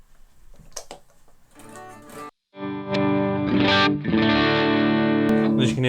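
Electric guitar played through a Vox AC30C2 amp with the volume pushed to about halfway, giving a driven, crunchy tone; strummed chords and notes ring out loud and sustained after a brief pause, with faint talk near the start.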